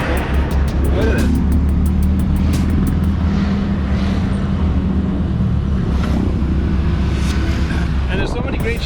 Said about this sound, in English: bikes, motorcycles, cars, trucks, and everybody's like running somewhere quickly